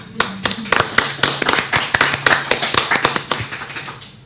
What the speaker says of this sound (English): Perhaps an applause for him